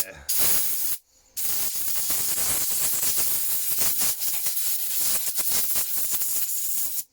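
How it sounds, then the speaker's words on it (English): A close aerosol can of WD-40 lubricant hisses in a long continuous spray, pauses briefly, then sprays again for several seconds with sputtering bursts. "bit WD-40 on it, then give it a spray."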